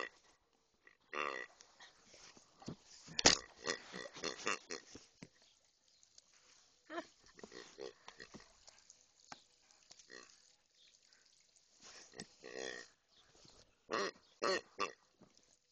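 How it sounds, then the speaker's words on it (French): A pig grunts in scattered, faint bursts of rough, snorting noises, some short and some in quick runs, separated by quiet gaps and heard up close with no other sound around them. "Des cochons?"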